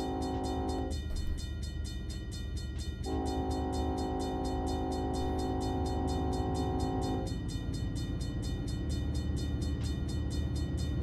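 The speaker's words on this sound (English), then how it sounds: "I hear trains everywhere." Trains in the Run8 V2 railroad simulator game near Waycross: a loud diesel locomotive rumbles steadily while its horn blasts in two long sustained soundings.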